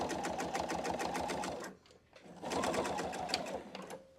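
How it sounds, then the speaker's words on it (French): A PFAFF Expression 720 sewing machine topstitches in a fast, even whirring stitch rhythm, stops for a brief half-second pause, then runs again at the same close, steady pace. "Et je fais ma surpiqûre."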